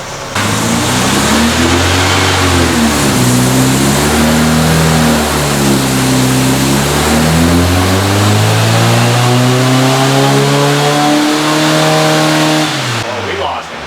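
A Volkswagen engine fitted with a header revs loud and close, its pitch climbing and falling in repeated surges before cutting off abruptly.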